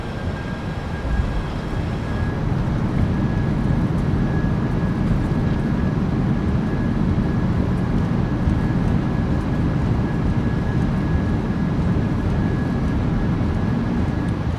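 A PMDG 737-800 rolls out after landing in a flight simulator game, thrust reversers deployed, giving a loud, steady broadband roar that holds constant throughout.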